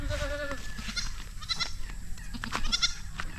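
A gentle goat on a rural Philippine farm bleats several times at close range amid outdoor background noise, with a few brief wavering calls.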